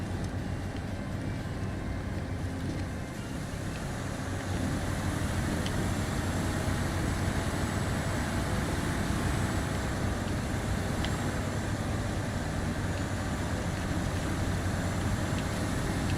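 A truck engine in the off-road driving game Snowrunner, a steady, dense motor roar and rumble holding at a constant loud level throughout with no pauses.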